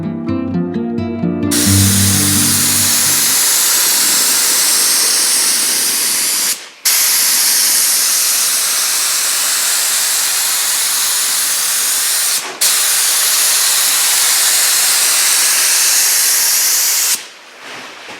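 Aerosol primer sprayed onto sanded spots on a junkyard Cadillac body, a loud, close, steady hiss that runs almost continuously, broken by a few brief pauses between passes.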